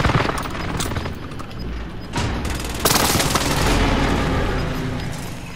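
Air strike explosions in the video game Call of Duty: Modern Warfare roll in as loud, dense booms and rumbling blasts layered with bursts of gunfire, sustained and close.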